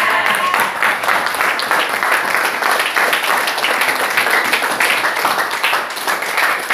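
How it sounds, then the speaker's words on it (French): A church congregation applauding together, a dense, steady wash of many hands clapping at close range that holds strong throughout, with faint voices mixed in. "Applaudissons pour notre frère."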